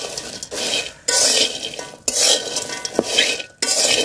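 A spoon scrapes and stirs cardamom pods and star anise dry-frying in a metal pan, in loud repeated strokes with brief pauses between them, close up.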